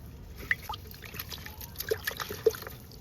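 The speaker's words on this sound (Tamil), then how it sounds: "இதை அப்படியே என்ன பண்ணால் தண்ணியில் போட்டு அலசணுங்க." Roots of a newly bought marigold plant are swished and rinsed in water, giving faint trickles, small drips and a few light splashes, quiet and close, with no voices.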